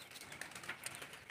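Doves coo in soft, faint, low calls from a distance over a quiet hiss, with a couple of tiny chirps mixed in.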